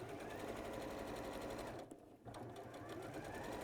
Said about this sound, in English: I'll just watch you stitch a straight line there.